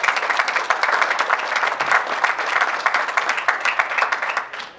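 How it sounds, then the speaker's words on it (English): Audience at a business summit opening applauding themselves, a steady wash of many hands clapping that continues for several seconds before tapering off at the end. "Give yourselves a hand of applause."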